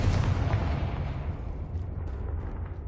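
A Confringo blasting spell goes off in Hogwarts Legacy, a loud booming explosion with a heavy low rumble that rolls on and slowly fades over a few seconds.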